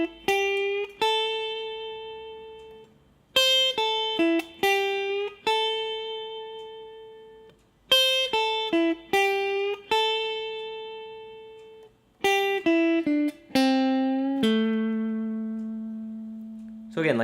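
Blues phrase on guitar with two gentle string bends, clear single notes with sliding pitch rising and falling, played alone at moderate loudness with pauses between short groups of notes.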